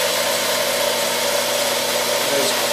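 A wood lathe running in a workshop, giving a loud, steady motor hum with a sustained whine that holds constant throughout.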